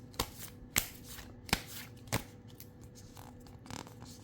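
Tarot cards being shuffled by hand, giving a run of sharp riffling snaps at a steady pace, then softer shuffling, close and quiet with no talk.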